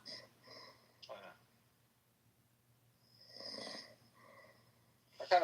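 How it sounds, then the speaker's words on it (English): A man snores in slow, rhythmic rasping breaths, three or four drawn-out snores heard close and fairly quiet, with silent pauses between them. "I kind of enjoy listening to him snore"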